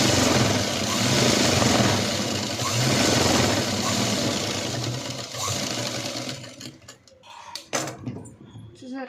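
A sewing machine runs steadily while stitching a blouse, its loud continuous whir filling most of the stretch before stopping, after which a few scattered clicks and handling sounds follow.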